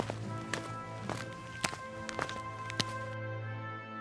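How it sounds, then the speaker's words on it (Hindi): Heavy footsteps approach from outside in a rhythmic series of distinct thuds, about a dozen over a few seconds, heard alone against a faint steady hum before cutting out. "तभी बाहर से भारी कदमों की आहट और एक कर्कश आवाज सुनाई देती है।"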